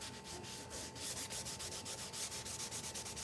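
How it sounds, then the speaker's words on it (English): A wet wipe rubbed back and forth into a wooden board to stain it, giving a steady run of close, scratchy strokes in an even rhythm, with no talk. "And you just like rub it right into the board,"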